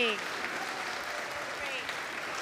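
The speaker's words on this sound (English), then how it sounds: "let's give them another round of applause." Steady applause from an audience after a school Christmas musical performance by students, a dense, continuous clapping that holds evenly throughout, with a brief voice or two mixed in at the start.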